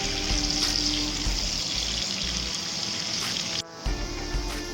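Onions fry in a pan and cook toward golden brown for a keema dish, giving a steady close sizzle with faint stirring and one brief dip partway through.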